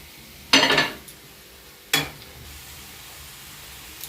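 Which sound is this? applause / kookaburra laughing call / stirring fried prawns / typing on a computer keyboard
stirring fried prawns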